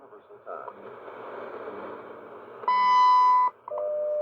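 WWV shortwave time signal heard on a TEF6686 receiver: a noisy voice-band hiss with a spoken announcement, then a loud steady beep tone for under a second, followed by another shorter tone.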